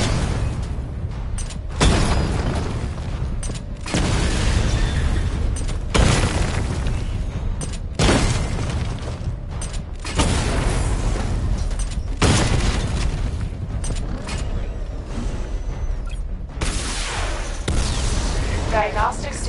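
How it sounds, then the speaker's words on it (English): Repeated booming blasts from a missile barrage in Batman: Arkham Knight land in heavy bursts every couple of seconds, loud and rumbling, with voice chatter underneath. "Missile barrage level 1 ready."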